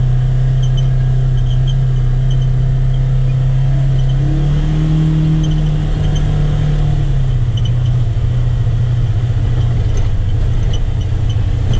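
A Polaris Ranger XP1000 fitted with a Hunterworks belt drives along, its engine and drivetrain producing a loud steady drone with a whirring, whining tone that rises briefly mid-run, close and continuous without talk.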